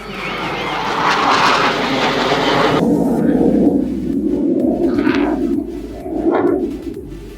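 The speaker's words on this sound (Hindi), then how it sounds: "अभी ठीक आसमान में देख सकते हैं 4 विमानों का ये समूह किस तरह से तेज रफ्तार में अलग अलग" A formation of four aircraft flies fast overhead at an outdoor rally in Dahod, their loud engine roar swelling and sweeping past, then fading into repeated whooshing passes over crowd noise.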